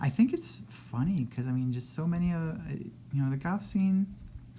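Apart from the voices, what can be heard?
No everyday noises stand out.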